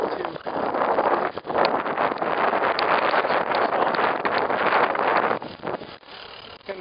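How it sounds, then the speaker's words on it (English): Headwind buffeting a microphone during a bike ride in Seoul, a steady loud roar of wind noise filling the whole stretch with a few brief dips. "get a nice headwind right now"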